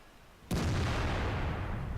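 A single loud tank cannon shot in World of Tanks, a sharp boom with a long rumbling tail that fills the rest of the moment.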